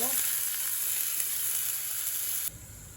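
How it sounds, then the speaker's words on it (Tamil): Sautéed onions for a fish curry crackle and hiss loudly in a pan, then two cups of milk go in and the sizzle abruptly drops to a quieter simmer near the end; no one talks. "இப்போ நல்லா வதங்கிட்டு நாங்கள் பால் விட போகிறோம் ரெண்டு கப் பால் விடுங்கோ"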